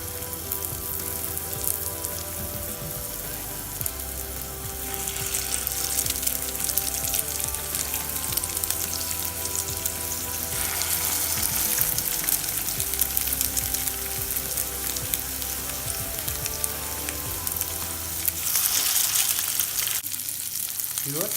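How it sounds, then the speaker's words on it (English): Salmon burger patties frying in hot oil in a pan, a loud continuous close sizzle that swells and crackles throughout, with occasional light stirring and a voice speaking now and then. "my oil is hot. Now I'm going to put my patties there"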